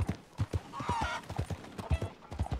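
Horse hooves clip-clop in a steady rhythm in Red Dead Redemption 2, approaching at moderate loudness, with a brief tonal game sound in the middle and no speech.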